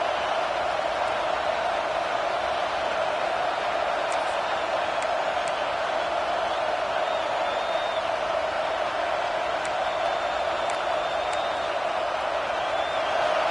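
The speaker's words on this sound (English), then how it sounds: "This crowd busting the decibel meter and trying to whittle a 4th down stop." Stadium crowd in the College Football 26 video game, a steady, loud, unbroken roar filling the whole stretch, with faint whistles and whoops poking through.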